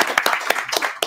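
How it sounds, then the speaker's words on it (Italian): A few people clap unevenly for an audience, a handful of sharp, scattered claps close by over about a second, with some faint voices mixed in. "Bravo, bravi, applauso a voi."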